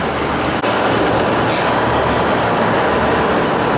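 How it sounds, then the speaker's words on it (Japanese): Rapid Mie express train pulling into a station on the Ise Railway, a loud, steady rumble of the passing railcars with continuous rail noise and no talk. "決して悪くはない快速列車三重号がやってきました"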